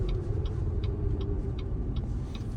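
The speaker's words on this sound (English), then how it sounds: "Now coming up to the turn signal sound, which is really nice." Turn signal clicking inside a Cadillac XTS, a soft regular tick repeating about every third of a second over a steady low road and engine hum, with no talk.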